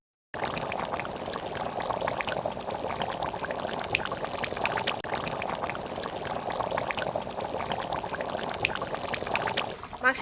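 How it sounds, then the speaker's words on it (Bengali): Water pours steadily into a pot of duck curry being cooked, a loud, close, continuous splashing gush that lasts about nine seconds before tapering off. "এবার জল দিয়ে দিচ্ছি"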